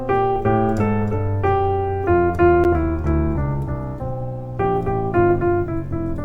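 A piano plays a sparse reharmonised line of Twinkle Twinkle Little Star using only the outer bass and melody notes, in clear, evenly paced sustained pairs heard alone with no talking.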